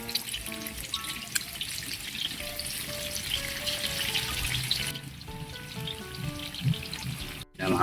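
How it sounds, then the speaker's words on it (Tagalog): Tofu (tokwa) frying in hot oil, a steady crackling sizzle that runs the whole time at close range, with light clinks and stirring noises on top and no talking. "pirituin na natin yung tokwa"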